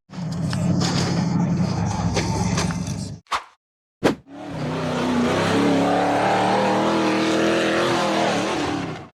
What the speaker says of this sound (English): The yellow buggy accelerated across the dirt track and launched over the concrete blocks.